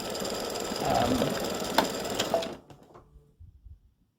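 An embroidery machine stitches a free-standing lace snowman's head in white thread, a steady fast mechanical chatter close by that halts abruptly midway, leaving a few faint clicks and handling sounds.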